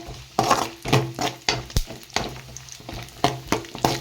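Raisins fry in a pan for payasam, giving a soft sizzle broken by sharp crackling pops and clinks at an irregular rhythm, fairly close and quiet.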